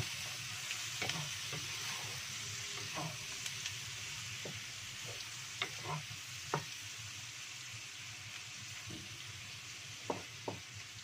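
Salted fish stir-fries in a pan with sweet soy sauce, a steady sizzling hiss running throughout with occasional sharp clicks and scrapes of a spatula stirring, close and alone with no talk.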